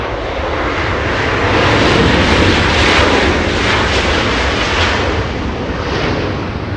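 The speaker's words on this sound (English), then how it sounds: "Air Tahiti Nui has been cleared for takeoff" Air Tahiti Nui Boeing 787-9 roaring down the runway on takeoff at LAX, a broad, loud engine rumble that swells and holds steady, then eases slightly as it departs.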